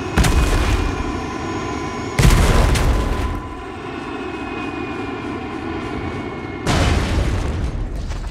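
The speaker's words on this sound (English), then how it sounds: "Our vehicle is about to explode." A vehicle explodes in the Call of Duty Mobile battle royale with loud, heavy booms, a big blast at the start, another near two seconds and a third near the end, over a steady droning aircraft and game rumble.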